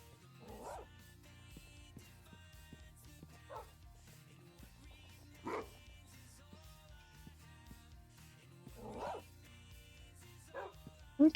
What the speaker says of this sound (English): Let's get the dogs over.